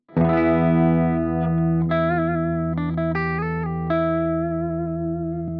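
Clean electric guitar tone run through a compressor pedal with sustain turned all the way down, a sustained chord followed by a few picked notes and chord changes ringing out smoothly, alone and fairly loud.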